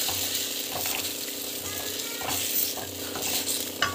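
Tamarind water bubbles and sizzles steadily in a hot pan, a continuous crackling hiss with occasional louder pops, close up.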